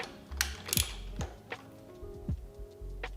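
Parts being screwed onto a Harley Sportster motorcycle give close, sharp ratcheting clicks and mechanical ticks in short irregular bursts, with quiet pauses between them.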